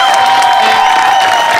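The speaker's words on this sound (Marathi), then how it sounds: "एकदा जोरदार टाळ्या त्यांच्यासाठी झाल्या पाहिजेत" A live crowd at a comedy stage show applauds and cheers for a singer, loud sustained clapping and shouts filling the space without pause.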